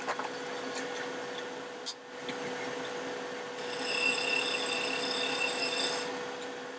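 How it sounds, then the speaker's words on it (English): A skew chisel shapes a wooden baseball bat spinning on a lathe. There is a soft, continuous scraping hiss over the steady hum of the motor, and the cutting grows a bit louder and brighter midway through. "I'm gonna straighten it up with a skew a little bit."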